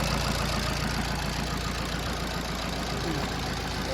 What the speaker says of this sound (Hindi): सिंगल सेल्फ में गाड़ी स्टार्ट, सिंगल सेल्फ, और कितनी प्यारी आवाज है इसकी